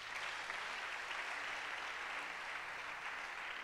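Congregation applauding during a church worship service, a dense, steady wash of clapping from many hands that carries on evenly throughout without any voices.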